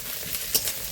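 Shrimp, onion and green chilli frying in a pan, a close, steady sizzle with brief stirring scrapes.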